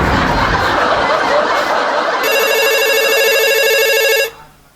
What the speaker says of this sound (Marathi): बायको कॉलिंग.